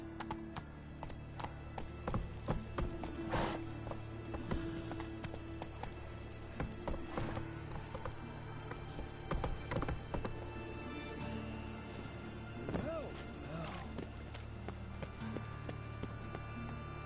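Hooves of Roach, Geralt's horse in The Witcher 3: Wild Hunt, clip-clopping in a steady galloping rhythm for the whole stretch at moderate loudness, with occasional sharper thuds and a faint snort.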